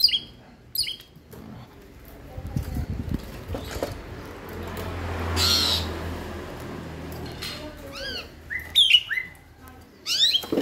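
An Asian pied starling calls from inside a cage after bathing, giving scattered loud chirps, squawks and whistled notes in short bursts with quiet gaps, close to the listener.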